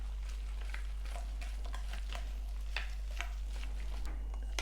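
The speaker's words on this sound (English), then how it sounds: "Just gonna use a whisk and whisk it around." A whisk stirs beer batter for prawns in a bowl, making a soft run of light scraping, sloshing strokes in an irregular rhythm over a low steady hum, fairly quiet and without any talking.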